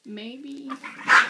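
Boston Terriers fighting over a rawhide let out a short, whiny bark and yip close by, ending in a sharper burst, with a brief spoken word over it.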